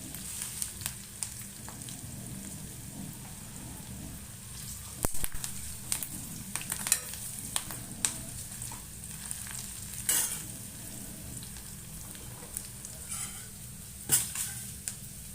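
Tempering sizzles and sputters as it is stirred into a boiling sambar of kadale kalu, with crackling bursts, pan scrapes and a sharp metallic clink, close and fairly quiet.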